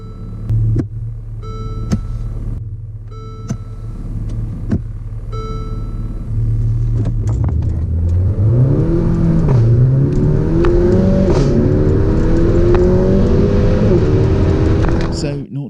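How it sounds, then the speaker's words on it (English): A Mercedes CLA 45 AMG idles with a low rumble, then launches hard from a standstill, its engine climbing loudly through several gear changes with rising and dropping pitch, heard from inside the car with a little talking at the start. "I think it's time to do a 0 to 60"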